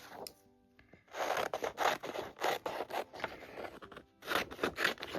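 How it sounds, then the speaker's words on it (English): Paper scissors snip and rasp through sheets of paper while roughly cutting out copies of a pencil drawing, a close run of crisp bursts in irregular rhythm after a brief quiet start. "I'm going to roughly cut them out with the paper scissors."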